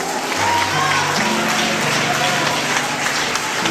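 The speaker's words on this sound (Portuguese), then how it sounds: "Aplausos para Jesus." A church congregation applauds in a dense, steady wash of clapping, with voices and low tones mixed underneath throughout.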